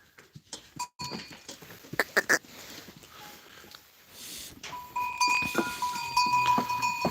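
A herd of pregnant goats about to give birth bleats several times at close range among shuffling and clanking in the pen, the calls growing more frequent toward the end.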